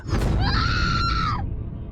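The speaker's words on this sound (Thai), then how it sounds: "ฟางกรีดร้องแล้วถอยไปชิดด้านใน" A woman's sharp, high scream in an audio drama sounds out over a low, constant rumble, rising quickly and holding for about a second before cutting off.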